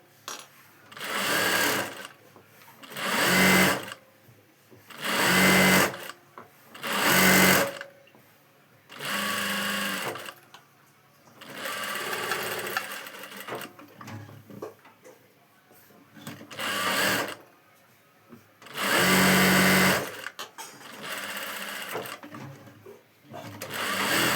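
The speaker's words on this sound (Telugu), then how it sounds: "కొంచెం స్లోగానే కుట్టండి ఎందుకంటే ఇవి కొంచెం ముడుచుకున్నట్టుగా వస్తాయి" A sewing machine stitches a long frock in about eight loud bursts of rapid whirring and needle clatter, broken by short pauses, with faint speech in between.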